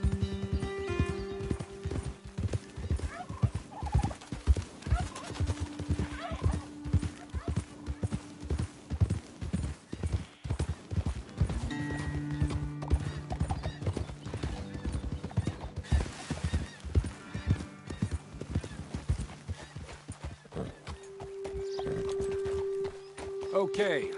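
Horses ride along a trail in Red Dead Redemption 2, hooves clip-clopping in a steady walking rhythm with occasional whinnies, under background music and talking voices.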